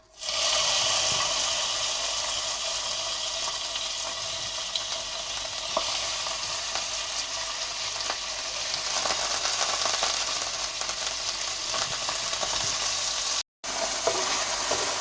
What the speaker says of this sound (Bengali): চিকেনটাকে একটু ভেজে নেব আগে।